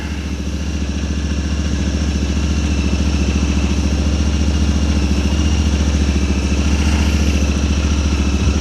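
Close and loud, a Honda Talon side-by-side idles steadily on asphalt with a rapid, even engine throb and mechanical clatter throughout, no voices.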